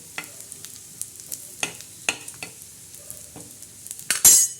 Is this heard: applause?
no